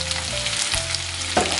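Green chillies, large onions and curry leaves fry in a pan of hot oil with a close, steady sizzle and crackle, stirred now and then, and no talking.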